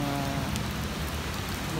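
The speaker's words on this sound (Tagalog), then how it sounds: "Listen to the sound of rain" Rain falls steadily during an outdoor walk in a constant wash of drops, with a faint low hum running underneath.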